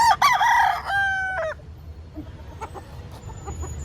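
A rooster crows loudly and close by, one full cock-a-doodle-doo, followed by quieter background rustling and faint distant sounds.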